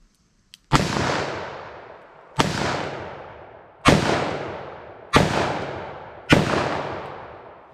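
Five loud, sharp .44 Magnum gunshots are fired one by one for a ballistic test, each a booming crack with a long decaying tail, spaced about a second apart.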